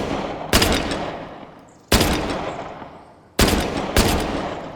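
.45 pistol shots fired at a clay pot in the VR shooting game H3VR: four sharp, loud gunshots with long ringing decays, the first three evenly spaced and the last two close together.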